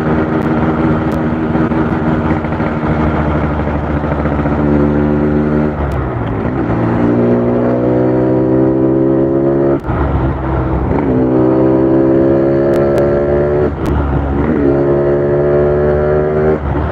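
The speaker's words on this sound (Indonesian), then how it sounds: "Jadi ini motor itu selip pada RPM tinggi." A Yamaha RX King motorcycle with a clutch slipping at high RPM, its engine loud and close, revved hard repeatedly, the pitch climbing, dropping and climbing again in several sustained sweeps.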